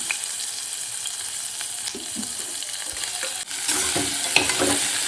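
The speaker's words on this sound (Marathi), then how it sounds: "हे आपल्याला छान परतायचं आहे. कांदा टाकलेला आहे." Chopped onion sautéing in a pan for a Maharashtrian pea masala rice, giving a steady close sizzle with occasional stirring scrapes that grow a little louder partway through.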